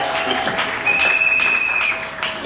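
A church congregation claps in a short burst of applause, with quick irregular claps and crowd noise under a faint sustained tone.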